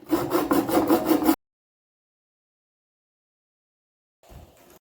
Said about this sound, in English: now I'm just going to saw these little nubbins off, and then I gotta sand this thing really good